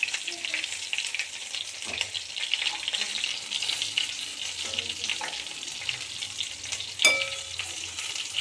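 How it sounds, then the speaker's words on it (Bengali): Pieces of fish fry in hot oil in a pan, giving a steady close sizzle with occasional scraping and clinks of a utensil being moved and turned. "এরকম মাছগুলো ভাজা ভাজা হয়ে গেছে।"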